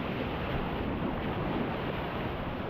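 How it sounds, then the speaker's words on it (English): Sea waves wash onto Platanias Beach in deepening water at golden hour, a steady broadband surf roar with some wind buffeting on the microphone throughout. "the waves here are a bit strange because it is getting quite deep"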